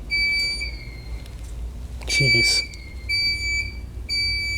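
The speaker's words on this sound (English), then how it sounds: "Yeah, alarms are going crazy." Alarms sound inside an abandoned movie theater, high, steady electronic tones repeating with short gaps, while a person briefly exclaims and talks over them.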